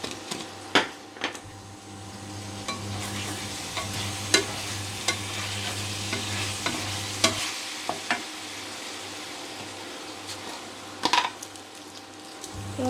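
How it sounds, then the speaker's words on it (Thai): Eggplant and bell peppers stir-frying in a pan, with a continuous sizzle and a low hum under irregular clinks and scrapes of a spatula against the pan, close up with no voices. "มะเขือยาวลงไปเลยค่ะ ลงไปผัด แล้วก็ตามด้วยพริกหยวกนะคะ"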